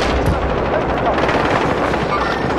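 Dense, nonstop automatic gunfire and explosions from a Call of Duty match fill the scene at loud, close range, with voices talking faintly underneath.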